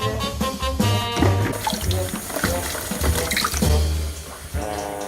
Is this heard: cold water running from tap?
yes